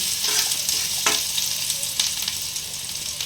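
Onions frying in a pan until light brown, a steady close sizzle with a few sharp stirring scrapes, no voices.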